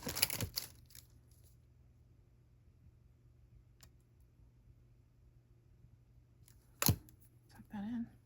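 Jewelry wire for artisan earrings is trimmed with cutters, giving a single sharp snip near the start and another crisp clip later, with faint handling rustle between them and a brief murmur at the end.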